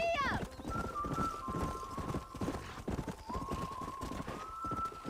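A horse gallops in the Red Dead Redemption video game, with steady rhythmic hoofbeats running throughout and a brief whinny at the start. A sustained tone holds underneath, and a voice may be present.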